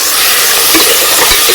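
Chopped onions, carrots and tomatoes frying in cooking oil in a village kitchen, a loud, close, continuous sizzle with bubbling crackle and occasional stirring.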